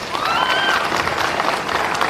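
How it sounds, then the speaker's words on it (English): An audience at an annual day celebration applauds, a brief burst of steady, many-handed clapping close by with a few voices faintly audible under it. "I think we should thank them by clapping"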